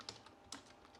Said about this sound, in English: you type on your prompt a digital